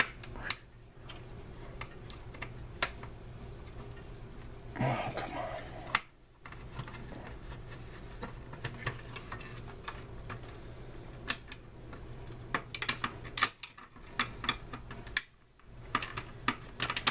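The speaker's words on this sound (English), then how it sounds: "The hardest part of this job is unscrewing this stuff." Small screws being unscrewed from a Nintendo NES console during restoration, quiet clicks and ticks with scattered taps and scrapes, close and faint over a low hum.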